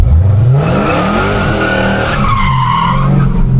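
A Dodge Hellcat slides hard through a corner, its tires squealing loudly in a long, rising screech over the steady roar of the engine, with no voices.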